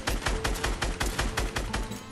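Fortnite automatic gunfire: a steady, evenly spaced string of about nine close shots in two seconds, punchy and loud with no talk.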